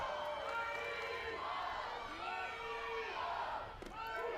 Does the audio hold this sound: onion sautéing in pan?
no